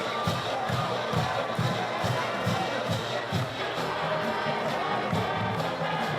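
A large high school football crowd roars and cheers continuously after a big catch, dense and loud throughout, with rhythmic chanting bursts and shouts blending into a steady wall of stadium noise.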